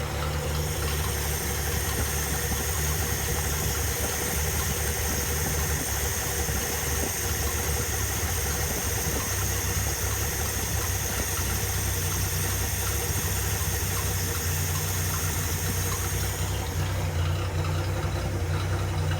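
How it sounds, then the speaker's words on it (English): A rebuilt car engine idles steadily and close by, a constant low rumble with a faint whine that holds unchanged for nearly twenty seconds, no voices over it. "That's nice idle now."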